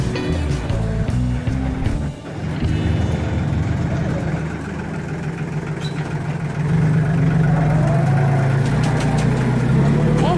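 A tractor engine runs steadily at close range during a winter skiing outing, giving a continuous low, rumbling drone with a slight rise in intensity partway through and no voices.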